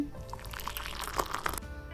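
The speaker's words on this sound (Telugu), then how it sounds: "దీంట్లో ఒక గ్లాస్ వాటర్ యాడ్ చేసుకుందాం" A glass of water is poured into gram flour in a kitchen bowl, a soft, quiet splashing pour lasting about two seconds with no talking.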